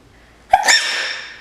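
One sudden sneeze close to the mic, a short sharp burst that trails into a breathy hiss, with quiet silence before it.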